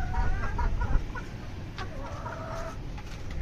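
Hens in a backyard coop cluck in short repeated bursts, a few close calls rising over a low rumbling background, with no one speaking.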